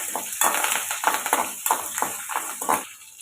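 Shallots, green chillies, garlic cloves and curry leaves sauté in a pan, a spatula stirring and scraping in quick rhythmic strokes over a bright, close sizzle, with no voices.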